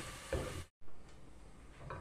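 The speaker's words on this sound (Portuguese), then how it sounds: "o alho já está aqui dourando" Garlic browns in a hot pan with a steady close sizzle and hiss, broken by a brief gap, with soft stirring scrapes.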